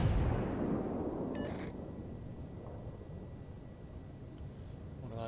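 A heavy salvo from the battleship Bismarck's guns in a naval combat video game opens with a loud, booming blast that rolls into a long, fading rumble.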